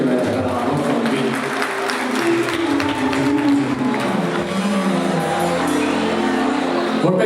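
An audience greets a band with applause, a dense burst of clapping from a gathered crowd that holds steady for several seconds, with some voices mixed in.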